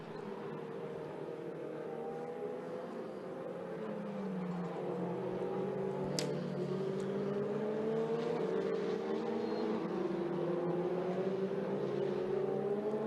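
Ferrari Challenge Europe race cars lapping Circuit de Barcelona-Catalunya, engines droning at a distance with rising and falling pitch as the cars accelerate and shift, one brief sharp click midway, no voices.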